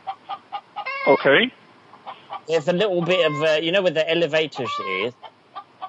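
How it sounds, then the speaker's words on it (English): Chicken clucks and squawks ring out between and over a voice on a phone line, the bird noisy and close, with bursts of agitated cackling as people talk. "the chicken is going everywhere in the hallway"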